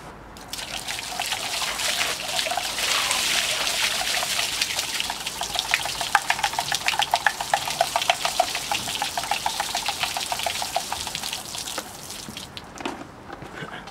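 Water from a bucket pours and splashes steadily over an Ugrinsky water turbine for several seconds, a rushing gush that thins into trickles and drips toward the end.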